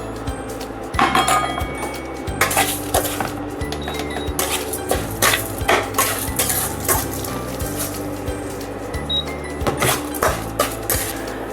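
Basmati rice roasting in a pan for sitaphal kheer, with steady scraping and clinking of a utensil against metal over a low continuous hiss, repeated stirring strokes throughout, fairly close.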